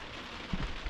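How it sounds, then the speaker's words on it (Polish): Steady hiss of rain falling on a surface, soft and continuous, with a few slightly louder patters near the end, heard at an autumn campervan camp in the mountains at Istebna. "Tak, nie wiało, ale no strasznie padało."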